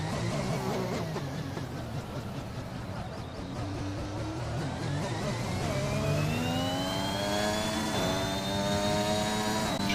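A race car in a sim racing game revs hard at Abu Dhabi, its engine note climbing and sweeping upward in pitch over several seconds, loud and continuous, with a faint commentator voice beneath.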